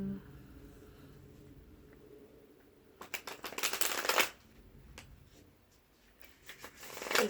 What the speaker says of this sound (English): shuffle some cards and do a reading.